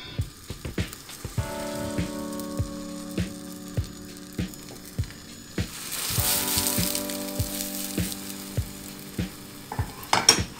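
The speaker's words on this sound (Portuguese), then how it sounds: "vamos despejar o fio de óleo, o azeite, numa frigideira antiaderente, de preferência. Com o lume baixo, vamos despejar a mistura." A mixture sizzles in olive oil in a nonstick pan over low heat, a soft continuous frying hiss broken by regular light taps and clinks of a utensil against the pan.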